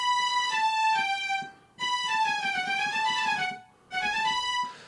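Disco-style legato string line built from two layered MainStage 3 sampled instruments, playing sustained harmonic phrases in three bowed swells with brief gaps between them, loud and alone with no voices.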